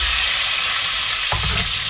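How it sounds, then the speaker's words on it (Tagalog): Labahita fish sautéing in a hot pan, a loud continuous sizzle with a brief scrape of stirring near the end, close and without voices. "igisa muna natin ang ating labahita"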